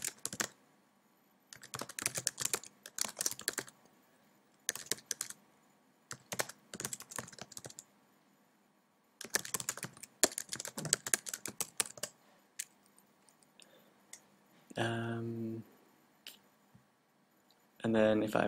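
A computer keyboard clatters in quick bursts of typing separated by short pauses, the keys close and crisp against a near-silent background, with a brief tonal sound near the end.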